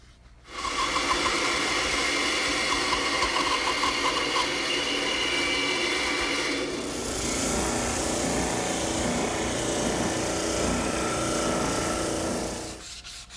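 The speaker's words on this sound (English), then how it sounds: "we'll cut it at the bandsaw" A bandsaw runs steadily and cuts a curved wooden brace in the workshop, giving a continuous loud rasping whine whose tone shifts midway through the cut before it stops.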